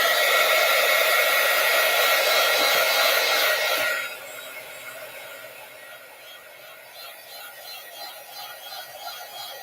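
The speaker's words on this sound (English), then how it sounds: "So heat gun alert." A heat gun blows steadily on mail art made with magazine prompts, a loud continuous whoosh that drops to a quieter, softer airflow partway through.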